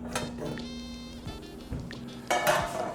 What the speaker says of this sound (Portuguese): Pegar logo a nossa panela.